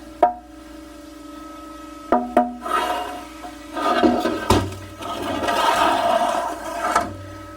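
Transmission fluid running through the filter of a 2008 GMC Sierra 1500 4x4 with a 4L60E transmission, a close gurgling, splashing flow that rises and falls, with a few knocks and rattles near the start.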